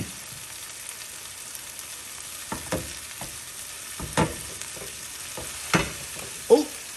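Cabbage and bok choy fry in a pan with a soft, faint sizzle while a few sharp clatters of stirring ring out near the end; nobody speaks.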